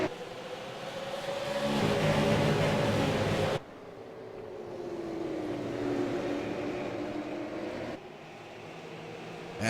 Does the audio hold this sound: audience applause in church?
no